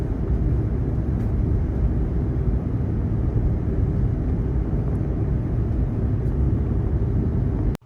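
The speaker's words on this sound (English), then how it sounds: "here we are taxiing the runway for takeoff" Hawaiian Airlines Airbus A330 taxiing to the runway for takeoff at Anchorage, heard from inside as a steady, loud low engine rumble and cabin drone that cuts off abruptly at the end.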